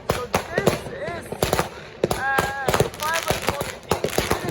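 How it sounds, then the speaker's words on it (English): Infinity consumer fireworks for a New Year show going off in rapid, crackling bursts with whistling tones, loud and near, while people talk and exclaim underneath. "this is the firework that we bought"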